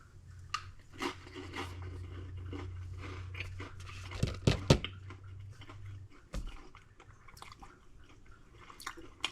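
A cracker topped with freeze-dried chicken salad, with onion and celery, is crunched close up, a few sharp bites in the middle followed by quieter chewing.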